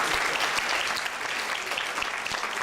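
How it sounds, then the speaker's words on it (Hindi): Steady applause from an audience gathered at a Vishwa Hindu Temple Republic Day event, dense, even clapping at moderate level running throughout without a pause. "जोरदार तालियां शर्मा जी के लिए"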